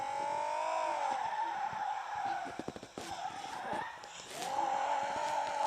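Car drifting in the driving game Car Simulator 2, a steady engine drone with long tire squeals and screeching skids that rise and fall, loud and close throughout.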